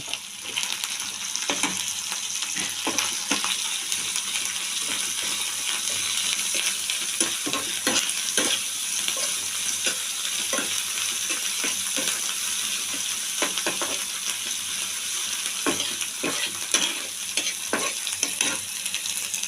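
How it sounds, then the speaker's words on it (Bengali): Small shrimp frying in a pan with salt and turmeric, a steady close sizzle running throughout with frequent scraping stirs of a spatula, no talking. "আমি ভালো করে চিংড়ি মাছটা ভেজে নেব"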